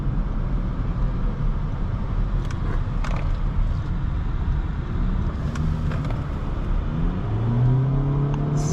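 A 2021 Honda Civic Sport with 180 horsepower accelerates at full throttle, its engine note a steady, moderately loud drone under road and wind noise, climbing in pitch toward the end.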